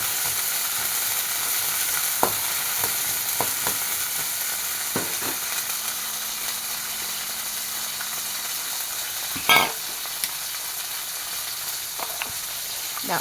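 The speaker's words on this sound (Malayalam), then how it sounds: "ഇതിലോട്ട് ചെറിയ ഉള്ളി തൊലിച്ചു വെച്ചിട്ട് കൊടുക്കാം" Peeled shallots and chillies sizzle steadily in a hot pan, a constant close hiss broken by scattered clicks and scrapes of stirring, with one sharper clatter near the end.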